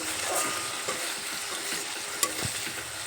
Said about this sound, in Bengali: এখন একটু নেড়ে চেড়ে নেব